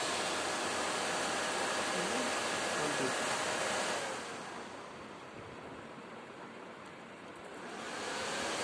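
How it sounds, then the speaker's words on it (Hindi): Cooling fans of an Emerson rack-mounted high-frequency online UPS running just after power-on, a loud steady broadband whoosh that dips in level midway, then swells back up. "अभी इसका पंखे वगैरह चल पड़े, ऑन हो गया है।"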